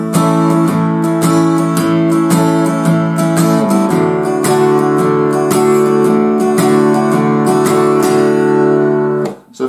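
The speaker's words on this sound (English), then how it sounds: "I'll play this bouncy shuffle like that." Rhythmic guitar chords played with a bouncy shuffle feel on 'Ain't That a Shame', a 1950s rock 'n' roll song, steady and loud throughout with no talking, cutting off at the end.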